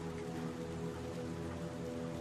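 A heavy downpour outdoors in Little Nightmares II makes a dense, constant hiss of rain, accompanied by a low, droning hum that holds steady throughout.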